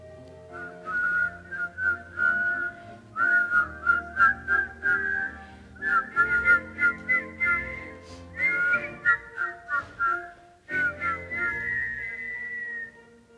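Solo whistling of a tune on stage in a Palisades production of The King and I, clear and melodic with phrased notes and brief breaths between, close and loud with no talking.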